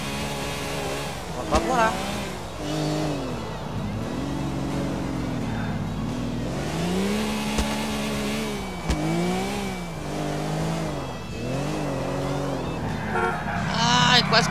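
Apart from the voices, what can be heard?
car engine revving in the video game GTA IV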